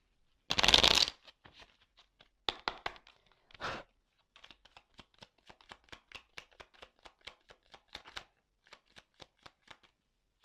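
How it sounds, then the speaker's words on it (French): Tarot cards are shuffled up close: a loud riffle-like burst, then a few softer flurries and a long run of quick, light card slaps and flicks. "Allez, je prends encore quelques cartes."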